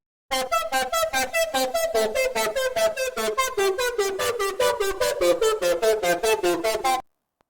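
A heavily processed synth with tube distortion, flanger, chorus, delay and reverb pulses in fast repeated notes, gritty and swirling with sweeping, chorused movement and echoing tails, then cuts off abruptly.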